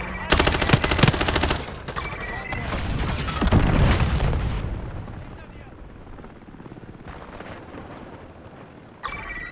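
Artillery strike in the Call of Duty MW4 beta multiplayer: dense bursts of rapid gunfire and heavy booming impacts crowd the first half, then fade to rumbling distant fire before a sharp blast at the end, with game voices mixed in.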